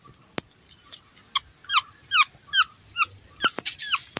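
A newborn female pug puppy whimpers in a run of thin, high squeaks and whines that grow more frequent and insistent, close by and alone against a quiet room.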